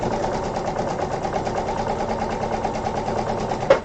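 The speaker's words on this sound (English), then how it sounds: "Run this through the sewing machine." A sewing machine stitches foundation-paper-pieced quilt block fabric, a fast even mechanical chatter of needle strokes held steady for several seconds before a brief sharp clack at the end.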